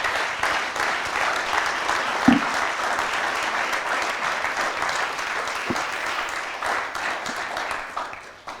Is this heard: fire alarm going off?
no